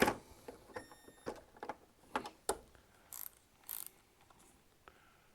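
A ratchet wrench set to loosen, working on bolts of a 2008 Kawasaki Concours 14 motorcycle near the front wheel, giving short bursts of close mechanical clicking separated by brief pauses, with no voices.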